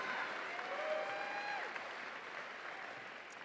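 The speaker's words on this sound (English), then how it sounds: "stand so that we can clap for you too" Applause from the audience at a university commencement ceremony honoring high-GPA graduates, a soft, distant, steady wash of clapping in a large hall, with a faint whistle-like tone gliding through the first half.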